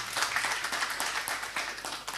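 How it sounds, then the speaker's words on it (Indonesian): A seated audience at an Indonesian organization's conference event claps, a fairly faint but steady patter of many hands with slight swells, continuing throughout with no voices. "Tepuk tangan dulu."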